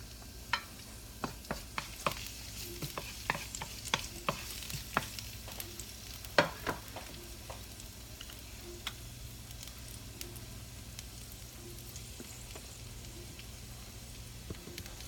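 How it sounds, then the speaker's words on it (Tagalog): Garlic and onions sauté in a little canola oil, giving a steady low sizzle broken by sharp clicks and scrapes of stirring, busiest early on and quieter later. "Igisa ko muna yung bawang, at saka yung onions."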